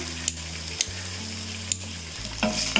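Garlic cloves, cumin, cinnamon and cloves sizzle in hot ghee, giving a steady close frying hiss with a few light clicks of spices, and nobody speaks.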